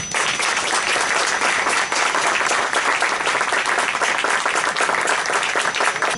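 An audience applauds a speaker with loud, dense, continuous clapping that holds steady throughout, with no voices over it.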